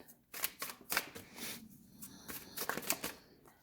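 A deck of tarot cards is handled and shuffled, a run of quick soft riffling flutters and taps, close and fairly quiet, with no talking.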